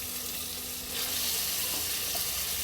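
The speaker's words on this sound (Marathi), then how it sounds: "आता याच्यामध्ये मी चिकन टाकून छान असं परतून घेते." Chicken coated with turmeric and salt is sautéed in a pan, giving a close, continuous sizzle that swells louder partway through as it is stirred, with no talking.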